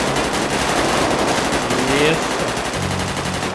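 Gunfire in the GTA 5 video game, a dense burst of shots heard under ongoing background talk and game noise, with a short spoken word near the end.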